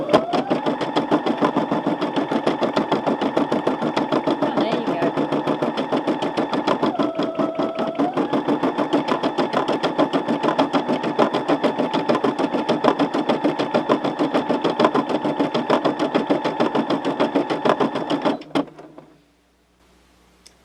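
Embroidery machine stitching a design: a steady, rapid mechanical needle chatter with a motor hum runs loud and close for about eighteen seconds, then winds down and stops.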